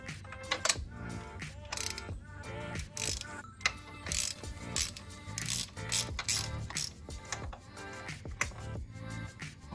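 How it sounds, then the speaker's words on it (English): A ratchet works on the spark plugs of a Mazda Miata 1.6 engine, giving close, steady runs of rapid clicking strokes that pause briefly and then start again. "Now we're gonna take all these bad boys out and then take the spark plugs out"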